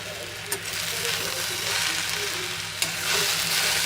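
Okra (bhindi) sabzi frying in a covered pan, with a continuous close sizzle and faint crackling broken by a couple of sharp clinks.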